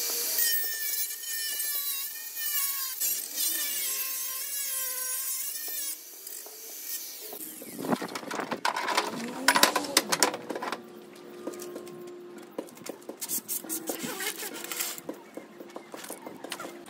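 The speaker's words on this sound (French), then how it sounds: "on va faire exceptionnellement une découpe à la disqueuse, à la petite meuleuse" A small angle grinder cuts through an aluminium roller shutter slat. High, harsh grinding and scraping arrive midway, following birdsong and quieter background sound, and continue in uneven bursts.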